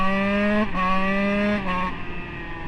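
A Husqvarna 125 SMS motorcycle fitted with a 144cc kit revs hard through rising gears, a loud close two-stroke whine with two brief dips at gear shifts before easing off.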